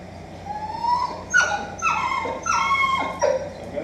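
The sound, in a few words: dog whimpering and yipping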